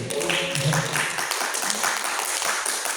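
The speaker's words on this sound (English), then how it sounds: "And now, we can round of applause for Mr. Hanif." Audience applause after a presentation at a thesis qualification exam and proposal seminar, a steady patter of clapping with some voices and room noise underneath at the start.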